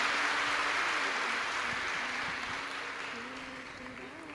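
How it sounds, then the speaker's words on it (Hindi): Applause in welcome of the host family at a Shiv Mahapuran religious discourse gathering, a steady wash of clapping from a large crowd that gradually fades out. "एक बार यजमान परिवार के लिए जोरदार ताली बजाकर स्वागत"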